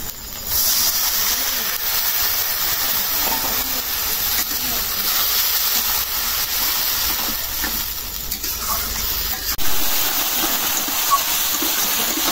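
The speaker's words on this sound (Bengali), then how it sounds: "এখন একটু পানি দিয়ে দেবো।" Water poured into a pan of fried spices, including chili powder and dried chilies, for a chicken curry, giving a steady, fairly loud hiss and sizzle that runs continuously at close range.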